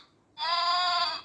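A children's toy plays an electronic goat or sheep bleat, one sustained nasal call after a short quiet start, close and clear.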